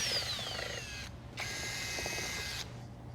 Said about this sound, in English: Drill holes for the external inflation valves on each side of the rear bumper